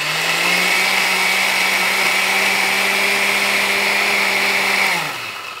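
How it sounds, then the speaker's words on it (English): A kitchen blender pulses a mix of nuts and garlic, its motor whirring loud and steady for about five seconds before spinning down at the end. "we're going to just pulse it a bit so we get the nuts and the garlic blended"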